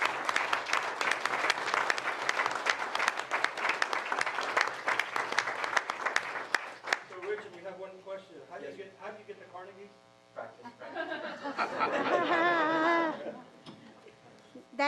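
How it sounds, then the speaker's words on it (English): Board meeting audience gives a big round of applause, loud dense clapping for about seven seconds that fades out, followed by a person speaking and a brief buzzing tone. "he deserves a big round of applause for everything that he did"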